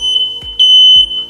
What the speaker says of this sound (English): That smoke detector works, but it isn't connected to the rest of the house.